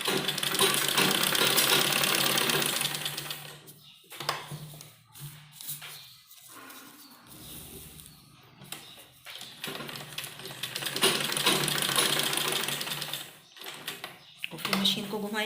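A sewing machine stitching a kurti neck runs in steady mechanical bursts, whirring loudly at the start and again later, with quieter pauses between and someone speaking over parts of it.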